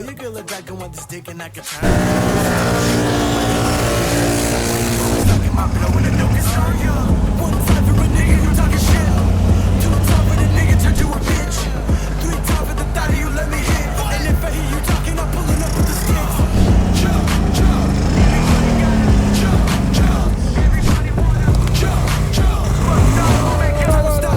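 Quad bikes driving through deep snow, their engines droning loudly and continuously with rising and falling revs, a steady close mechanical roar with faint voices now and then.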